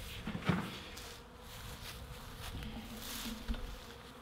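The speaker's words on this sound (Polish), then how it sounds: "Pszczółki niech sobie siedzą." Honeybees buzzing around an opened beehive during a February after-winter inspection, a steady close drone of many bees with a few soft clunks of hive parts.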